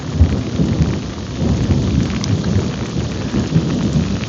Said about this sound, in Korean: 지나가는 소나기면은 정말 다행이죠.